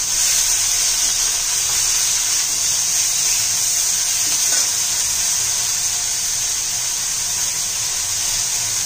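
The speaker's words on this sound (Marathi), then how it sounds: "त्यात मटकी घालून चांगली परतून घ्यायची 2-3 मिनिट" Moth beans sautéing in a pan give a steady, loud sizzling hiss that holds unbroken throughout.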